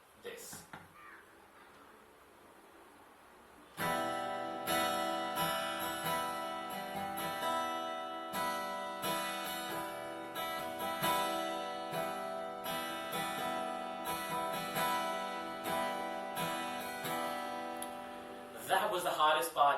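Steady acoustic guitar strumming of Zombie by the Cranberries starts after a few quiet seconds and continues as a rhythmic, even pattern, fairly close and moderately loud.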